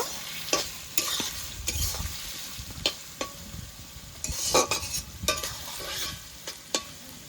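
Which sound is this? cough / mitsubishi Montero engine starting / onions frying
onions frying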